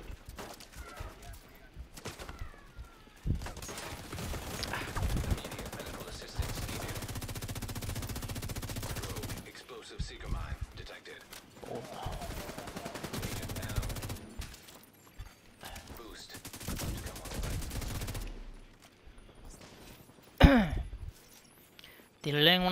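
Rapid automatic gunfire from the shooter game Tom Clancy's The Division 2, with dense bursts and sustained fusillades running through most of the stretch while a player talks over the action.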